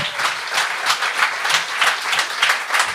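Audience applause at a comedy show, a steady dense crowd clapping that swells in rhythmic waves, loud and close, with no voices over it.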